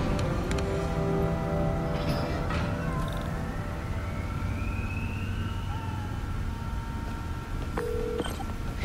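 A cat meows several times in Marvel's Spider-Man: Miles Morales, drawn-out cries rising and falling over a steady game soundscape with electronic beeps, moderately loud and unaccompanied by talk.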